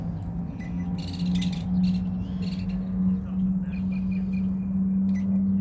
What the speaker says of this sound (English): birds are distracting me.